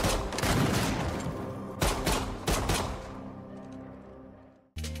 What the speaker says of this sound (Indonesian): Rob langsung ditembak oleh James.